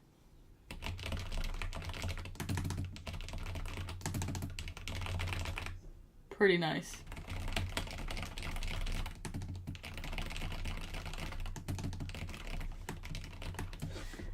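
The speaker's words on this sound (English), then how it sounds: "A little Nomad typing test." Rapid, continuous clicking of a computer keyboard being typed on, close and steady, broken once by a brief spoken remark.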